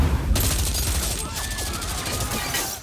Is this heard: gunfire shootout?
yes